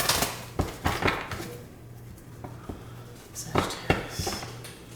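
Large tarot cards shuffled by hand, giving a few sharp riffling bursts with quieter gaps between, close and fairly faint.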